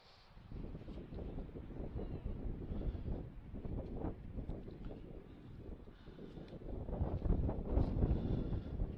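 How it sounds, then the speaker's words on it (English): Gusty wind buffets the microphone at an outdoor high school football game, Holy Trinity vs Richview, making a steady, low, rumbling roar that swells stronger toward the end. "those wind gusts are coming up"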